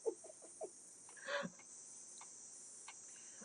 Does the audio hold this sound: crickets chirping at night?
yes